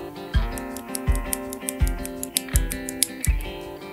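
Red linear switches on a Machenike K500 B61 hot-swappable mechanical keyboard, pressed in an even sequence of muted, close clacks with faint low thumps behind them.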